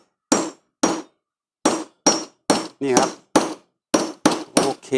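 A hammer knocks a part out of an electric fan that will not spin, striking about ten sharp blows with uneven gaps, close and loud, with a brief spoken word between hits.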